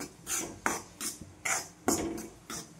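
Wheat flour being stirred and roasted in a pan for sheera: repeated scraping strokes of a spoon against the pan, about six rhythmic rasping passes, close and clear with no talking.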